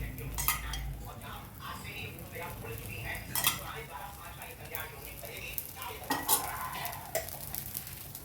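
Pancake batter cooks in a pan with oil drizzled around it, a faint sizzle under scraping and light clinks of utensil against metal, with occasional louder stirring scrapes.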